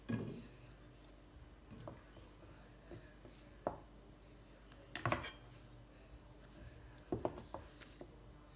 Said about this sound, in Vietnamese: sẽ xắt hạt lựu như vậy